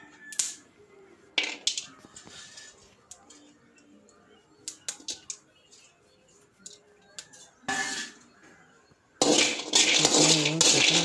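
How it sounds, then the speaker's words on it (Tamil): Almonds roasting with cardamom and cashews in a pan, stirred with a metal spoon: scattered clinks and scrapes against the pan, then a louder sustained sizzling rattle near the end, with no talk. "இதையும் சேர்த்து நம்ம நல்லா கலந்துக்கலாம். இது நல்லா வறுக்கணும்."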